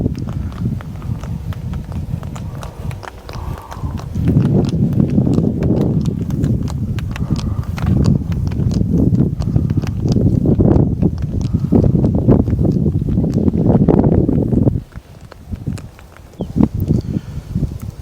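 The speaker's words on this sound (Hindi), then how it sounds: "एक भैंसा बोगी सामने से आ रही है।" A buffalo cart rolls along a farm track near a village as a farmer returns from the fields. The hooves clop in a steady walking rhythm, close and fairly loud, with rustling around it and no talk.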